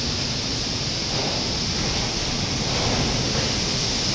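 Returning super typhoon wind blows strong and steady around a house, a dense continuous roar at moderate level, gently building near the end, with no one talking.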